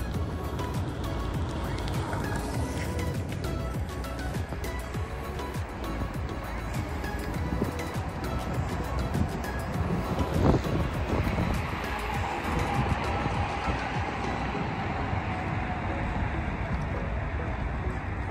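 Ride on a scooter across a university campus, with strong wind rush buffeting the microphone and steady rolling road noise throughout, loud and close.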